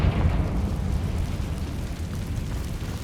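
A Confringo spell blast goes off in Hogwarts Legacy, a heavy, rumbling burst that fills the low end and rolls on for a few seconds before easing slightly.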